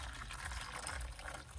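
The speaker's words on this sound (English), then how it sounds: "Gonna pour our water in here." Water pours steadily into a container for an action figure conversion, a continuous soft splashing and filling sound with no talking.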